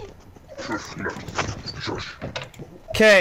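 A dog whines and whimpers in high, yelping bursts, close and fairly loud, with a person speaking briefly over it near the end.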